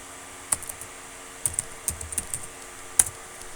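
Computer keyboard typing in an irregular run of light clicky keystrokes, some bunched quickly together and a sharper tap near the end, close over a low background hum.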